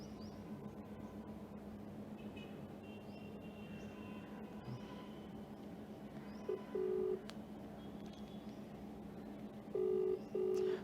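Telephone dialing tones from an outgoing call to a TV show, two short bursts of tones near the end over a steady low background hum.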